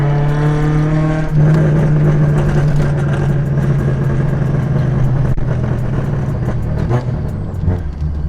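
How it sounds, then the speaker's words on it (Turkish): A Tofaş car's engine holds a loud steady drone close by, rising sharply near the start and running on under a rough exhaust rumble, with faint crackling pops scattered through the later part. "Popcorn'u de arabaya viteste gaza basılı tutarsın ve ayağını gazdan çekersin patlamasıdır."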